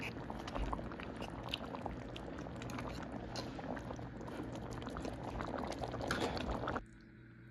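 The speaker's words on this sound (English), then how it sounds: "We have to simmer that in. Let it cook down." Pot roast bubbles and pops as it simmers down in a pot, a busy, close crackling burble that cuts off abruptly near the end.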